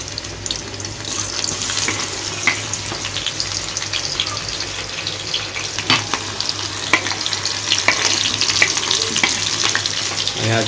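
Two large onions fry in hot oil in a pan, giving a steady sizzle with scattered crackles and pops throughout.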